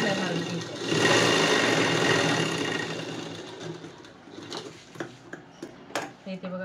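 A sewing machine stitches puff sleeve fabric, a steady mechanical whir that runs loudly for a few seconds, then slows into separate clicks and taps while someone talks over it.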